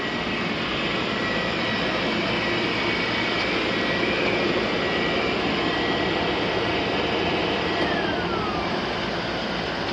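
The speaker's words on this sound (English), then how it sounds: "Turn the air blower off." Steady, loud broadband roar of a swimming pool air blower running continuously without change, a dense whooshing rush filling the whole stretch with no voices.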